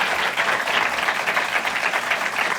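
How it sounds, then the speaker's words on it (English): Audience applause for a guest at a live event, a dense, steady wash of many hands clapping nearby, filling the whole short stretch without talking. "give a warm round of applause"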